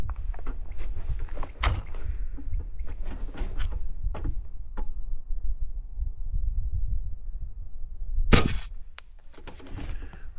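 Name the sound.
Airmaks Krait MK2 X HP .25 air rifle shot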